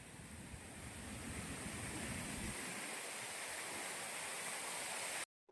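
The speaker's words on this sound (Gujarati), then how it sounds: "ધોધમાર વરસાદ શરૂ થઈ ચૂક્યો છે" Heavy downpour drenching an outdoor spot under trees on the road toward Jesar, a dense, steady hiss of rain with no breaks, fairly quiet overall and ending abruptly.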